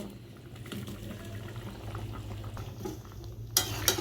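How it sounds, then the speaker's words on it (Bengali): Coconut milk curry gravy for dhokar dalna simmers in a pan with a steady low bubbling, with faint stirring and a couple of sharp utensil clinks near the end. "ঝোল ফুটে উঠেছে।"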